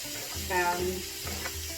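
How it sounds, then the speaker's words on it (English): Bacon, mushrooms and onions sizzle in a frying pan with a steady hiss in the background while a person speaks over it. "Hope you can hear it sizzling behind me here."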